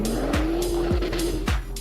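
A Nissan GT-R in a racing video game drives with a steady engine drone as the tires squeal repeatedly, with several sharp swooping skid bursts over the continuous loud motor tone.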